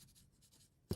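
Pencil drawing lines on paper for a Zentangle pattern, a faint steady scratching that ends in a short louder tap, quiet and close with no talking.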